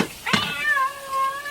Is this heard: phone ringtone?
no